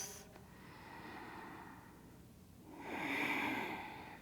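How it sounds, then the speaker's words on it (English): Deep breathing during an Ashtanga yoga sun salutation: a slow, close inhale followed by a stronger, audible exhale through the nose, soft and unhurried in a quiet room. "deep breaths"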